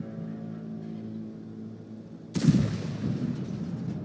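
A single heavy tank gun blast from a Waffenträger auf Pz. IV in a video game booms suddenly after a quiet stretch of low engine rumble, followed by a rolling, fading echo.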